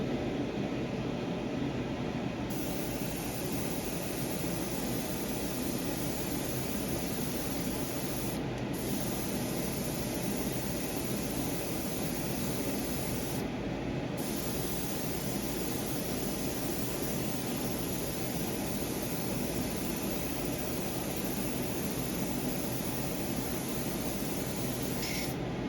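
A Gaahleri Mobius TG airbrush hosing out a cupful of paint, producing a loud, steady hiss of spray that runs almost continuously, broken only by two brief pauses.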